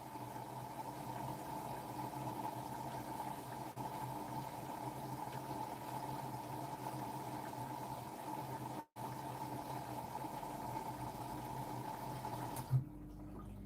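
Washing machine filling with water for a rinse cycle, a steady close rushing of water with a constant hum running throughout, briefly interrupted before continuing.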